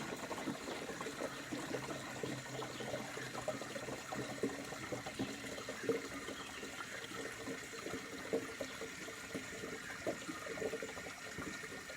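Slow water flowing steadily outdoors during a walk, a soft continuous trickle and gurgle that stays even and fairly faint throughout, with no voices.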